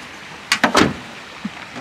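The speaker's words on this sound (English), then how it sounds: "Let me just close the door." A VW Crafter camper van door is pulled shut, giving a quick cluster of close thuds and a rattling latch, followed by a faint knock and then quiet.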